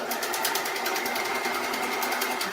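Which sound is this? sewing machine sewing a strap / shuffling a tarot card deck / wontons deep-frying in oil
sewing machine sewing a strap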